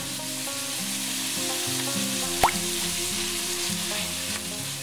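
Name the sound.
minced meat frying with oyster sauce and chili peanut sauce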